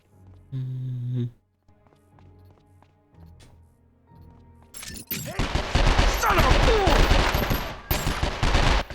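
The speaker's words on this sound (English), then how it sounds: "that's the shotgun" Shotgun fire in the video game 24: The Game, coming in after a few quiet seconds of tones and clicks as a dense, loud run of blasts and gunfire that carries on to the end.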